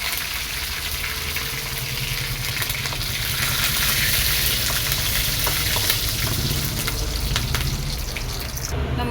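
Curry leaves hit hot oil in a pan for a mango curry, giving a steady, loud sizzle and crackle that holds throughout.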